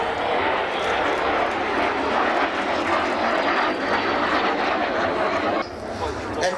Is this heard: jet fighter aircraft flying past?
yes